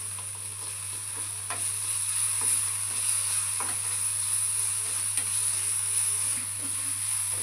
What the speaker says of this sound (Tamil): கருவேப்பிலை, காஞ்ச மிளகாய் எல்லாத்தையும் இப்போ நம்ம சேர்த்தாச்சு. கொஞ்சம் நல்லா வந்து வதக்கிக்கலாம்.